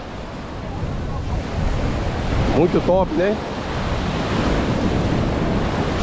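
Ocean surf at Porto de Galinhas beach in Brazil, a steady broad wash of breaking waves with wind buffeting the microphone, while someone talks briefly over it near the middle.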